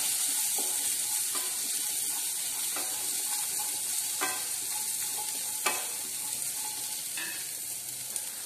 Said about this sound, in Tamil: இப்போ வந்து நம்ம கட் பண்ணி வச்சிருக்க வெங்காயத்தை போட்டுக்கலாம். நல்லா வதக்கிக்கோங்க.